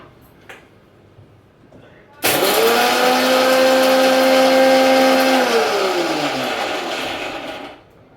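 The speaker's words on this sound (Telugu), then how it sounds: "ఒక్క నిమిషం మిక్సీ పడదాం ఫ్రెండ్స్." Kitchen mixer grinder blending ingredients for ragi laddus switches on after a quiet moment, whirring loudly and steadily for about five seconds, then its pitch sinks as it winds down and stops.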